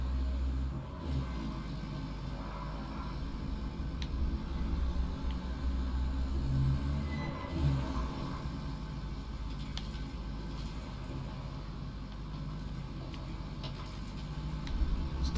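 A heavy truck drives in the Roadcraft video game, its engine a steady low rumble that holds constant throughout with slight swells, no talk over it.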